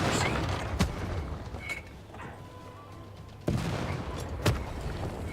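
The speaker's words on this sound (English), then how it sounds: "tank gets hit fairly roughly" A tank being hit in combat in Civilization 6: a couple of sharp impact cracks over low rumbling battle noise, with a heavier blast about two-thirds of the way in and another crack after it.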